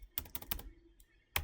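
Close, crisp computer keyboard typing in quick bursts of clustered keystrokes with a short pause between, as a web address is entered into a web browser.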